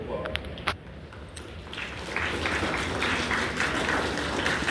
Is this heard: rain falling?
no